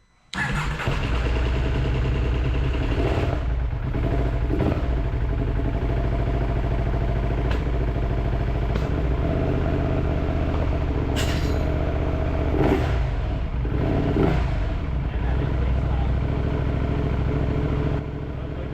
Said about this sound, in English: Well, the engine seems fine.